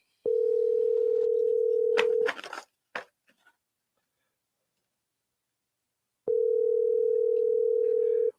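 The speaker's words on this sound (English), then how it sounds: "Let me try to call Gilbert back now and see if I can get him on the phone" A telephone call in progress: a steady, continuous tone sounds for about two seconds, followed by a few brief clicks, then silence, then the same tone returns near the end.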